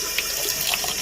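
Dyed fabric rinsed under a running tap, a loud, steady rush of faucet water spattering into a sink, continuous and close, with no voices.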